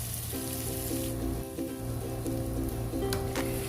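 Onion and garlic fry in a pan with a steady crackling sizzle, close and continuous, alongside a constant low hum and no talking.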